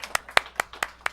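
A small audience claps at a show: five or six distinct, evenly spaced handclaps, fairly faint and close, with no cheering.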